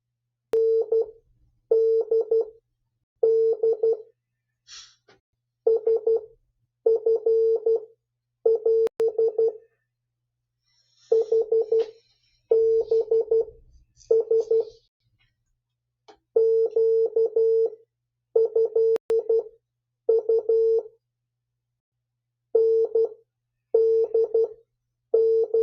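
CW Morse code sent as a clean steady tone in repeated dot-dash groups, loud and close with gaps of silence between bursts.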